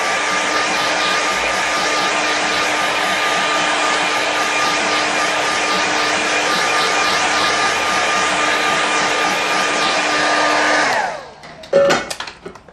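A hair dryer quickly dries watercolour painting paper clipped to a board, a steady loud whirring blow held for about eleven seconds before switching off, followed by a few brief handling clicks.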